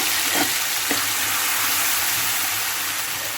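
A ground paste of cashew, poppy seed and ginger fries in hot oil, giving a loud, dense, continuous sizzle with a couple of faint knocks near the start.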